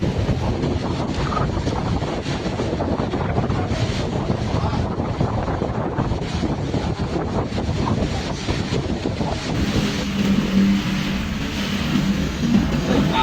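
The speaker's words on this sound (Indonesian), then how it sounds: "Hujan angin. Hujan angin tuh." Heavy wind roars and buffets the microphone continuously during a wind and rain storm in Jakarta, with a dense wash of rain noise throughout.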